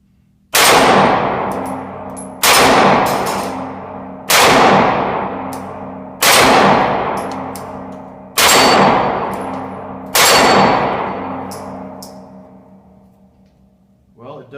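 Six loud Glock 43 pistol shots hit small steel targets, spaced about two seconds apart, each a sharp crack followed by a long metallic ring that fades.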